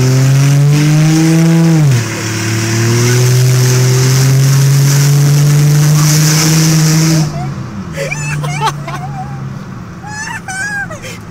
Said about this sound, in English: This is what happens when your exhaust blows off.